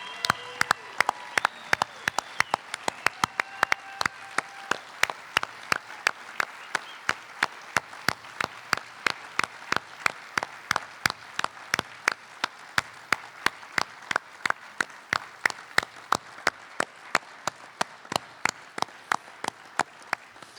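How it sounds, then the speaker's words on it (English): Standing ovation at a celebration of life gathering: dense, steady applause from a crowd fills the room with a crisp, regular clap standing out close by, while voices briefly cheer early on. "Standing ovation for Hector."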